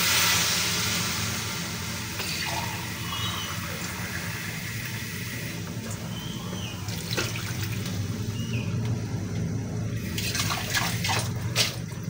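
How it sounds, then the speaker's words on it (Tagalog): Water pours steadily into a cooking pot, a continuous splashing rush close by, with some clinks and knocks near the end. "lagyan po natin ng 2 cups ng tubig."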